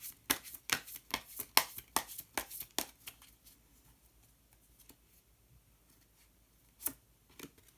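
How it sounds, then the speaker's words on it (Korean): Tarot cards are shuffled and one card is drawn from the deck, giving a quick run of crisp, close slaps and flicks. These thin out into quiet, with a couple of isolated taps near the end. "히든 카드를 한 장 더 뽑아보도록 하겠습니다"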